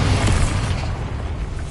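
Bombarda spell explosion in the Hogwarts Legacy video game, a dense, roaring blast with heavy low rumble that holds steady and slowly thins out, loud and close.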